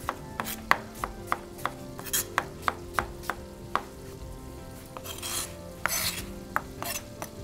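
A knife chops apples on a cutting board for cinnamon craisin apple sauce, with crisp, evenly spaced cuts in a steady rhythm, fairly close, plus a couple of brief scraping sweeps between chops.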